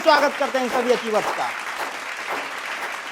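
Applause for achievers at a national achievement day celebration of winners, a diffuse spread of clapping under a male host's speech at first, then continuing more softly on its own.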